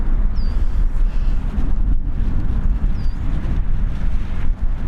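Steady, loud gusting wind roars across a microphone outdoors at Birmingham airport on a breezy day, a continuous low rumble with no break and no voices.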